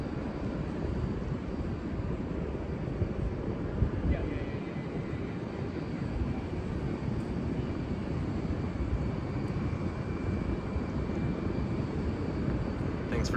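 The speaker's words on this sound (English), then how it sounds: "I'm going to continue this on until the plane has left the tarmac" A steady, broadband aircraft engine roar from a plane on the tarmac at a San Diego airport's charter service, constant and moderately loud for the whole stretch without clear speech.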